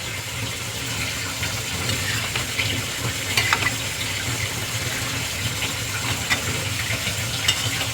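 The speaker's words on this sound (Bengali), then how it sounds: "শাকটা মজে গেছে এবার আমি ওপর নিচ করে দিচ্ছি" Wilted spinach with plenty of released water is turned over in a frying pan, a steady wet sizzle and bubbling with occasional scrapes and light clinks of the spatula against the pan.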